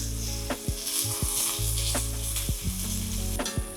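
Large prawns sizzle loudly in a hot pan just after being flipped, with a constant close crackle punctuated by several clicking taps of a utensil against the pan.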